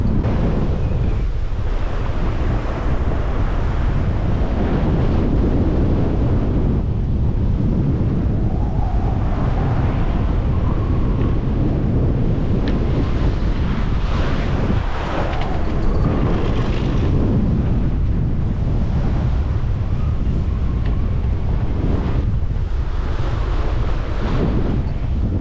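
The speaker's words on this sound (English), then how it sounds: "That came on really quick, that squall. 35 knots, didn't last very long." A 35-knot squall at sea in the South Pacific. A sailing boat takes a roaring, unbroken rush of wind buffeting the microphone, and surf and waves wash underneath throughout. No voices.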